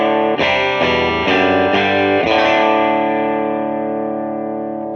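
Electric guitar on the bridge pickup, played through a Line 6 HX Stomp with two amp blocks, two IR blocks and a stereo EQ, strums a few quick chords and then lets a full chord ring out and slowly fade.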